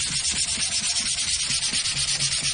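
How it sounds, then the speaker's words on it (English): Hand sanding on wood during a Viking talharpa build, with steady, rhythmic back-and-forth rasping strokes close by and no talking. "I'm just gonna have to just good old hand sand that down."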